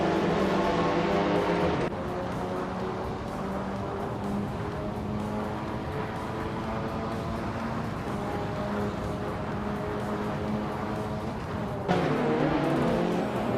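Race cars in a racing video game drone steadily with layered engine tones throughout, shifting pitch as they jostle for position, loud and continuous with no talk.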